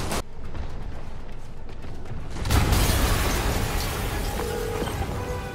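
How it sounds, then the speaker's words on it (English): Explosion in Spider-Man PS4: a sudden broad burst after a quiet stretch, followed by a sustained loud rumbling roar that stays dense for several seconds, close and alone. "Yuri, an explosion just..."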